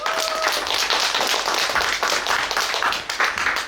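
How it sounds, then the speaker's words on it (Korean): An audience claps steadily at a poetry concert to welcome poet Moon Tae-jun, a dense, continuous wash of applause from many hands, fairly close and loud throughout with no talk over it. "문태준 선생님을 박수로 모시겠습니다"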